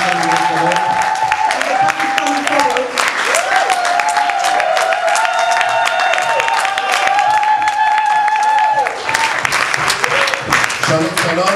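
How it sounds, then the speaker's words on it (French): A church congregation at a convention opening claps and cheers loudly and continuously, a dense wash of applause mixed with shouts and sustained musical tones running through the whole stretch. "Acclamons le Seigneur"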